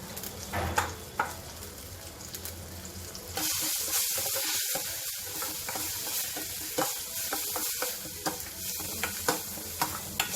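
Onion sautéing in a pan with ginger-garlic paste, mustard seeds, asafoetida and turmeric for baingan bharta, a steady sizzle with scraping stirs and clinks that grows fuller partway through, close and without voices.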